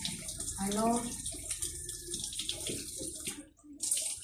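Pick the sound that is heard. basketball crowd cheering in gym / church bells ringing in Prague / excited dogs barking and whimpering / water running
water running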